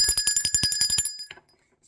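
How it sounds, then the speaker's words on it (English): A small bell is rung rapidly for about a second and a half: a quick, bright, evenly spaced series of loud metallic dings that stops abruptly, followed by silence. "I'm ringing the bell for that."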